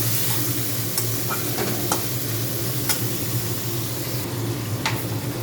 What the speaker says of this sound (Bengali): তেল গরম হয়ে যাওয়ার পর চিংড়ি মাছগুলো দিয়ে দিলাম